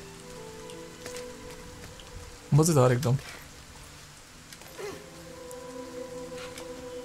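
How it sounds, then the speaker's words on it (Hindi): Steady rain falls in the video game Rime, a soft continuous patter beneath a voice speaking briefly in the middle. "बारिश का सीजन कितना सही लग रहा है इसके अंदर,"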